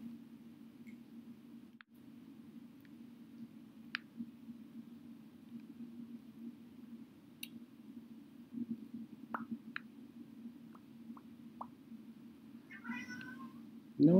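A cat meows in the Resident Evil 3 video game. Faint ticks and plops sit over a steady low hum, and then one clear, fairly loud meow comes right at the end.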